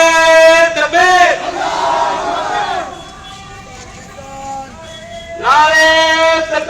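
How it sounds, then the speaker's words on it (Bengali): A crowd at a street rally in Arambagh chants the slogan Naraye Takbir Allahu Akbar, loud call-and-response shouting in bursts with a leader's voice and crowd noise between. "নারায়ে তাকবীর আল্লাহু আকবার স্লোগান দেওয়া হচ্ছে।"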